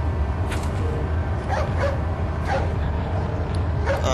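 A dog in Resident Evil 4 barks repeatedly at roughly one-second intervals, sharp yips standing out over a dense, steady game soundtrack and ambience.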